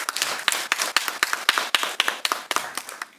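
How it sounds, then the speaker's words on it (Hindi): Clapping from a small group, with sharp hand claps landing in a quick, fairly regular rhythm, moderately loud and close. "तालियां बजती रहनी चाहिए।"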